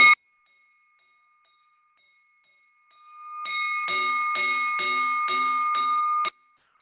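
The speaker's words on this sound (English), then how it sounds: "I got to know how many times to ring the bell." A single bell strike at a Rotary Club luncheon meeting fades out, followed after a pause by about seven quick, bright rings in a steady rhythm that stop abruptly.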